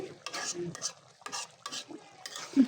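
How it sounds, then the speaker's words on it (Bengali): Beef being stirred and fried in a pan for a Bengali beef bhuna, with repeated close scraping strokes of a spoon against the pan over a soft sizzle, in short rhythmic bursts. "মাংসটা আমি ভালোভাবে কষিয়ে নিচ্ছি"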